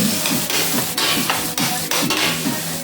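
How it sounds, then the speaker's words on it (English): Scallions and onions sauté over medium-low heat for Jamaican escovitch fish, a steady sizzle in the pan under rhythmic scraping stirs of a utensil, close and fairly loud. "So it's scallion and the onions are going through the sauté process right now."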